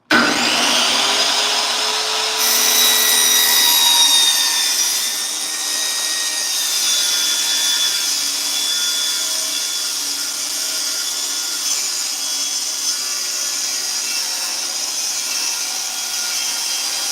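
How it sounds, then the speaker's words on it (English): A saw bites into a piece of 8-inch steel plate with a loud, shrill, ringing screech and grinding hiss. The sound runs continuously close by, its pitch shifting slightly as the cut goes on, with no talking. "Let me cut a piece of 8-inch plate."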